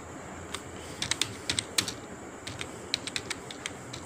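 Someone types on a computer keyboard while filling in an online university admission form, giving scattered clusters of close, crisp key taps with short pauses between them over a quiet room.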